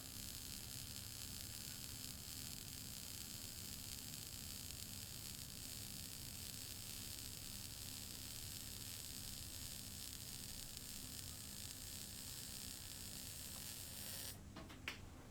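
Hot air welding gun sealing a thermoplastic seam gives a steady, unbroken roar of blowing air and hiss at close range. It holds even for about fourteen seconds, then a brief rustle near the end, with no voices.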